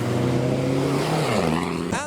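Modified Max Power Vauxhall Corsa leaving a car show, its engine roaring close by and falling in pitch as it passes, ending in a brief sharp squeal, with voices in the background.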